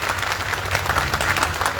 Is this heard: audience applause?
yes